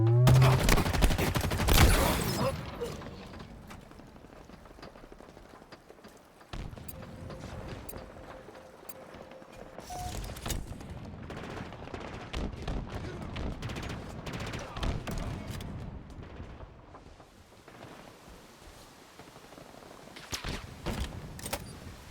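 Bursts of video game gunfire from the shooter Halo, with a loud dense volley at the start and then scattered quieter shots and clatter over several seconds.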